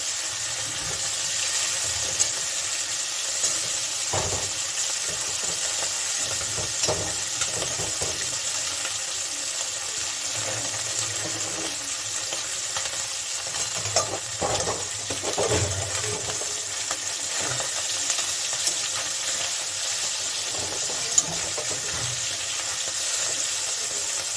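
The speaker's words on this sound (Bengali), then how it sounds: "আমি খুব কড়া ভাজবো না হালকা ভাজবো" Small mourola fish lightly frying in oil in a kadai, a steady close sizzle that hisses evenly throughout, with occasional soft knocks and scrapes as the pieces are turned.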